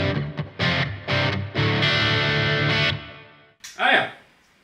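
Crunchy distorted electric guitar through a Marshall JVM410 head's crunch channel plays a few chopped chords, then a sustained ringing chord that fades before one last short strummed hit.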